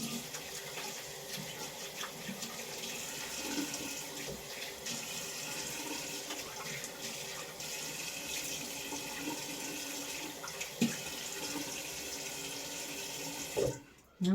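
A sink tap runs steadily for rinsing moisturizer off, a continuous close splashing hiss that stops abruptly near the end.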